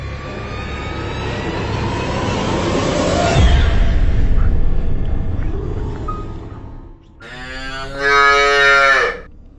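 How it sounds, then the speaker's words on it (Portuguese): A cow on a farm, close to the wall of a wedding ceremony, moos with a long, low drawn-out call, then after a short pause lets out a second louder, higher bellow. "A vaca chegou bem perto do muro da cerimônia e começou a mugir e não parava."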